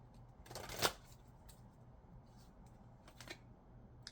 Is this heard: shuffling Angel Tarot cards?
yes